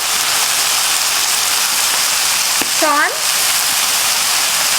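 Tofu with oregano and soy sauce sizzles loudly and steadily in a hot pan, a constant frying hiss, while a voice briefly speaks over it near the middle.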